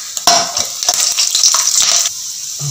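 Whole spices—cinnamon, cloves, three or four cardamom pods, star anise and a little mace—crackle and sizzle as they fry in hot ghee for kadai chicken, a loud bright hiss with stirring scrapes that cuts off near the end.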